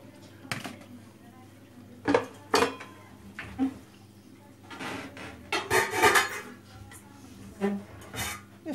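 Cooking pot handled while beets are put in, with metallic clanks and knocks of the pot and utensils coming in irregular clusters, close by, as someone talks over them.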